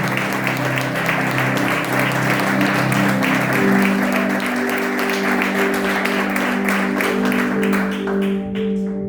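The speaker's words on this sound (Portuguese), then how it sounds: "A gente pode dar uma linda salva de palmas para o Senhor Jesus" A church congregation gives a long, full round of applause during a Portuguese-language service, dense and sustained clapping from many hands. Sustained tonal sound, likely music, runs underneath, and the applause thins out at the very end.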